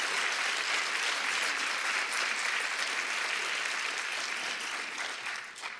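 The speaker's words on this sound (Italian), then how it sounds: "chiedo un applauso per loro" Steady, dense applause from a large audience at a conference, honouring the press office staff, holds at even strength throughout and fades slightly near the end.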